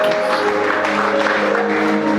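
A church congregation applauds during a ministerial consecration service, producing dense, steady clapping from a large crowd, loud and continuous throughout with a faint sustained tone beneath it.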